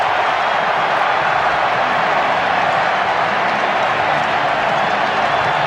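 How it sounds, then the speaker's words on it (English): A stadium crowd at an NFL playoff game between the Eagles and Lions roars after a touchdown. The sound is a dense, loud, unbroken wash of cheering that holds steady throughout, with no talking. "Boy, this crowd's loving it, though. It's like a soccer crowd."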